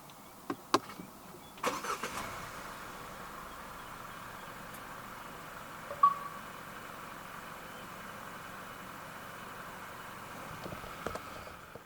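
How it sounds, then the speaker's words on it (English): A few clicks, then the 2.0 turbo engine of a 2025 Jaecoo J8 AWD SUV cranks and starts by push button, settling into a quiet, steady idle with a faint click or two later; close and low in volume. "press the start button to the right of the steering wheel"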